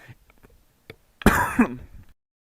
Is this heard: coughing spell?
yes